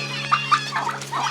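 Small bantam roosters crowing and clucking close by in a garden, several excited calls overlapping over a steady low hum.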